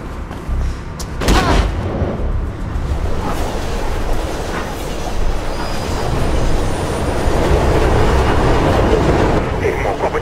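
A loud, continuous rumbling roar of a train moving through a tunnel in the 2008 video game Mirror's Edge, with a few sharp bangs early on and rising intensity toward the end.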